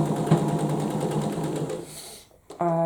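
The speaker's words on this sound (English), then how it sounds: "I could sew over my pins." A sewing machine stitches a cushion cover over pins, running in a fast, steady whir for about two seconds before stopping briefly. A faint voice follows.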